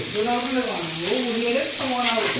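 Onions fry in a pan with a loud, continuous sizzle while a person talks over it throughout.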